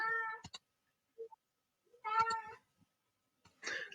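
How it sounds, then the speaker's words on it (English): Domestic cats meow softly in a quiet room, with several separate meows of varying length, one short chirp, and gaps of silence between them. "Oh, those are your cats."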